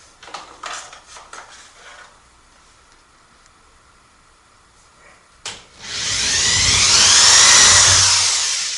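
A power drill bores bigger holes into a garage ceiling for molly bolts, a loud sustained whine starting after some faint handling knocks and a short quiet stretch.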